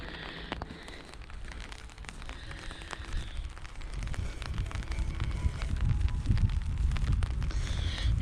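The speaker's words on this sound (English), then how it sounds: "it is raining" Rain patters steadily on an umbrella during a riverside walk near a bridge, a dense close crackle under gusty wind that builds louder toward the end.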